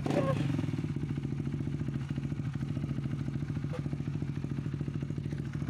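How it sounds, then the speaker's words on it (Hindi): A Kawasaki Z900 superbike idles with a steady, throbbing rhythmic engine pulse heard from nearby, fairly quiet, with brief clatter and faint background voices. "पूरा सुपर बाइक का आवाज आ रहा है अभी देखो"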